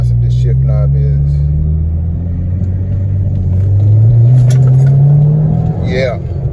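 An Audi car engine revs as the gas pedal is pressed, a loud steady low rumble whose pitch climbs and falls through the clip, with brief talk and clicks near the start and end.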